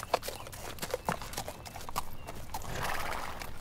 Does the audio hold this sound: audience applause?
no